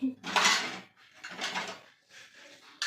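Plates are handled and stacked in a home while belongings are moved to a downstairs room, with three bursts of close ceramic clatter and clinking, each lasting about half a second to a second.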